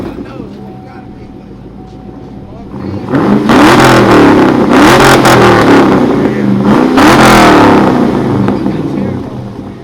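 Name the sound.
Dodge Charger RT engine revving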